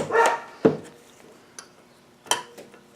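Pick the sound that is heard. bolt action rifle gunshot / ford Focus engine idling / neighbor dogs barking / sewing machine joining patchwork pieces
neighbor dogs barking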